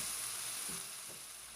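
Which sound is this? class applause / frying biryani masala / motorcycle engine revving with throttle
frying biryani masala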